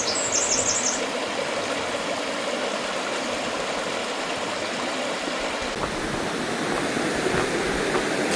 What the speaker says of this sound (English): Got a creek running down through there.